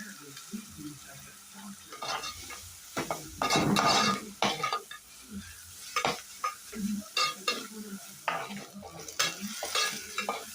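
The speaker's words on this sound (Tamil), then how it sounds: "எண்ணெய் சூடானதும் நம்ம நறுக்கி வச்சுருக்க வெங்காயமும், பச்சை மிளகாய், கருவேப்பிலை எல்லாத்தையும் ஒன்றாவே போட்டுக்கலாம்." Chopped onion, green chilli and curry leaves sizzle loudly in hot oil while a utensil stirs and scrapes the pan, with bursts of crackling and metallic clinks close up.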